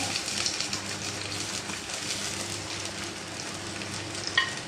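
Onion, tomato, curry leaves and green chillies sauté in a pan for a mackerel curry, giving a steady close sizzle with faint stirring and a single small clink near the end.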